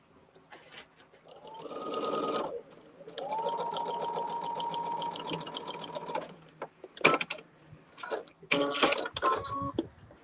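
A sewing machine runs in bursts while stitching quilt blocks at a short 1.8 stitch length, with a long steady whirring run in the middle and clicks and handling noises between the runs.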